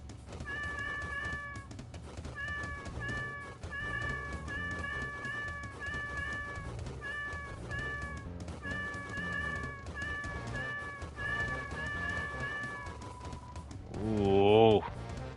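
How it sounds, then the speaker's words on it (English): Cats meow repeatedly in short, regular bursts during a gaming livestream, with a steady low background bed and a voice talking under them. A louder, rising cry closes the stretch. "Pet the kitties."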